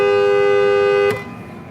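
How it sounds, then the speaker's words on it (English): A car horn sounds one long, steady, loud blast, held for about a second before cutting off abruptly and leaving low road noise. "I'm honking this guy"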